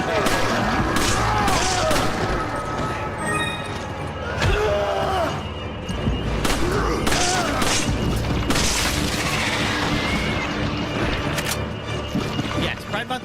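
Gunfire in Resident Evil 5: repeated booming shots and blasts in a dense, continuous game soundscape with music, with a voice talking over much of it.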